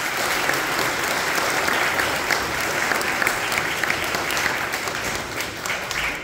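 Congregation applauding at a Sunday Mass in a church, sustained clapping from many people, even and continuous, moderately loud with a roomy, reverberant spread.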